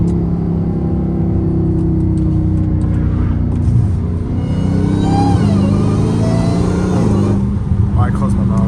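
Catless exhaust of a Dodge Hellcat Redeye with valves open rumbles deeply from inside the cabin on a mountain road, a steady heavy drone with rising and falling pitch under occasional talk.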